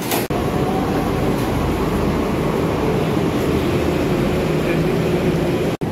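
Metro train at Rajiv Chowk station in Delhi, a loud steady rumble and rail roar filling the platform, with a voice talking over it.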